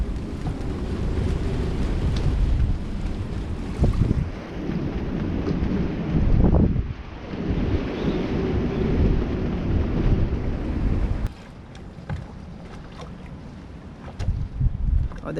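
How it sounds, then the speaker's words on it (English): Strong wind gusting over a sailboat out near a marina, a loud, close, buffeting roar that swells and eases for a long stretch before dropping to a lighter rush. "We still have some pretty good wind gusts."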